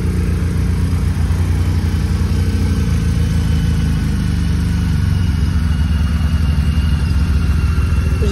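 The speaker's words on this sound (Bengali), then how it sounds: "আর দেখতে পাচ্ছেন বিএমডব্লিউ বাইক আমার সামনে, এগুলা 350-400 সিসি।" BMW motorcycles with 350–400 cc engines run at a steady idle near a winter beach, producing a loud, continuous low rumble up close with no voices.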